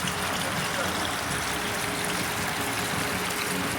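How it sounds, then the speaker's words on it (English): An outdoor water fountain outside a downtown hotel splashes in a loud, continuous hiss of falling water that fills the whole moment without pause. "I love some of these fountains right here."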